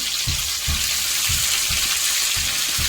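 Onions frying in a pan give a steady broad sizzle, with low soft stirring or tossing thumps repeating about every half second throughout.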